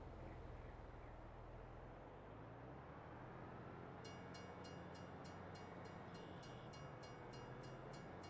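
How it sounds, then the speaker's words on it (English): A train rolls along in the Farming Simulator video game, a loud, steady rumble of wheels with low droning engine tones that shift in pitch, then a rhythmic, repeating clatter of bogies over rail joints joins in partway through. "Choo-choo train. I like trains."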